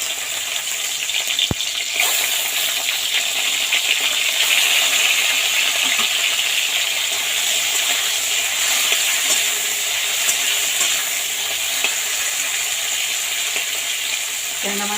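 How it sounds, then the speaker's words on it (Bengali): Tangra fish frying in hot oil, a loud continuous close sizzle and crackle that holds steady throughout with a few brief spits and clinks, no talking. "ট্যাংরা মাছটা লাল করে ভেজে নেব।"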